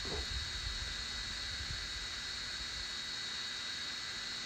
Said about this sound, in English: I can hear the drone, it's about 700 feet.